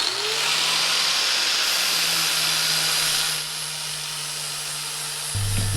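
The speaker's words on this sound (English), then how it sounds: "use power tools to clean the paint off your column like I'm about to" A power tool whines steadily as it strips paint off a flat-fender Jeep's steering column, loud and close. The pitch shifts partway through, and near the end the motor cuts back.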